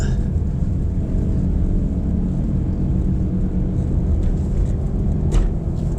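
A 2023 Suzuki Dzire pulling in second gear, its engine giving a loud, steady low rumble from inside the cabin that holds an even drone throughout with little change.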